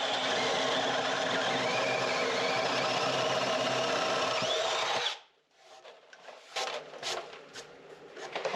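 A power drill bores a hole in wood during a water tank storage build: a loud, steady whirring grind runs for about five seconds, then cuts out, leaving faint handling and shuffling noises.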